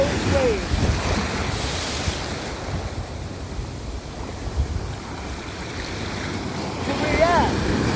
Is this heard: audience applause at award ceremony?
no